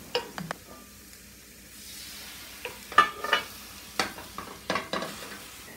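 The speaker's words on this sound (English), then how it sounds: "let most of the water evaporate, and then move the onions back onto this area" Onions cooking in a dry pan without oil as water evaporates give a soft hiss and sizzle, broken by a series of distinct scraping and stirring strokes from a utensil, with no talking.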